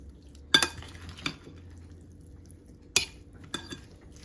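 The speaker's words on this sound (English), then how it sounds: "But I will mix it up good." A chopped salad is mixed with couscous and dressing in a bowl, a few sharp clinks and scrapes of utensils against the dish spaced across quiet moments.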